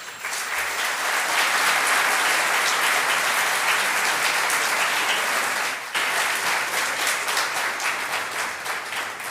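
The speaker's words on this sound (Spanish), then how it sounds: "Un aplauso, por favor." An audience at a Spanish-language book presentation applauds a guest speaker with loud, dense, continuous clapping that holds steady for several seconds, dipping briefly near the end before continuing.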